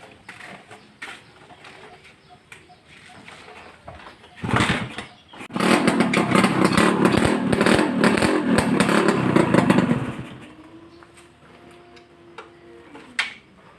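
A Honda Tena motorcycle's engine ticks with a few clicks, then fires up and runs loud and close with a rattling, steady beat for about five seconds before dropping back to a quieter idle.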